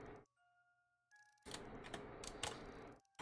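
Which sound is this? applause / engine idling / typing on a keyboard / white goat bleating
typing on a keyboard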